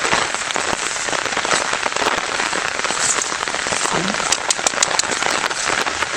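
Heavy rain pouring steadily on a cattle farm, a dense hiss of drops with sharp pattering hits on nearby surfaces, loud and unbroken throughout.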